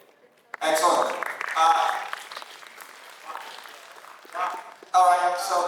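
Bursts of audience applause in a lecture hall for a presenter at an AI and Internet of Things talk, swelling and fading in waves with brief talk in between, close and moderately loud.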